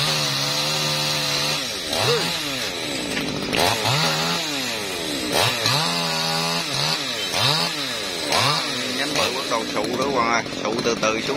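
Chainsaw cutting a branch of a Java plum tree near a house, its engine droning loudly and rising and falling under load throughout, while people talk over it.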